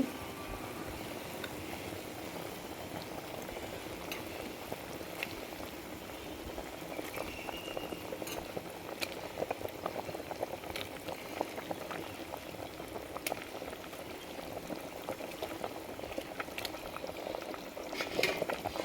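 A pot of banana flower vada curry bubbles and simmers quietly and steadily, with soft popping and occasional small clicks throughout.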